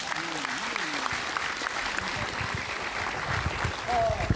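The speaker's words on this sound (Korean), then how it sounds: "모두 큰 박수로 맞이해주십니다." Crowd applause at the launch ceremony of the Future United Party, a Korean political party, steady and moderately loud throughout, with voices and some speech mixed into the clapping.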